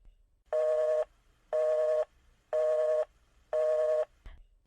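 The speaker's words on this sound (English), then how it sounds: "You'll hear a busy signal." A telephone busy signal: four evenly spaced, identical tone bursts about half a second long, separated by equal silences, clear and alone, followed by a faint click.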